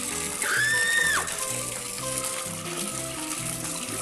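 Running water while a flat bottle used for keeping betta fish is washed, a steady gushing and splashing stream that stays close and continuous, with a brief whistling tone near the start.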